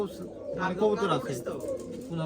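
Giribaz pigeons at a flock of some four hundred birds on a pigeon farm coo in overlapping low murmurs, steady and close, while someone talks over them.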